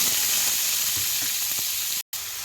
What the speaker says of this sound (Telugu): ఇదైతే ఒక టూ త్రీ మినిట్స్ లైట్గా ఇట్లా ఫ్రై చేసుకున్నాము